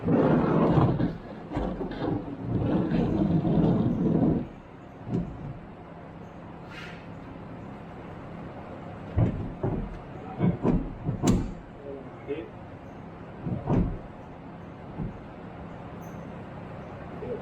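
A homemade tool drawer slides into the bed of a new Toyota Tacoma, making a long rumbling scrape at first. Scattered knocks and clunks follow, close and moderately loud, with brief talk now and then.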